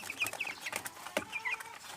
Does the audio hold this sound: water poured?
no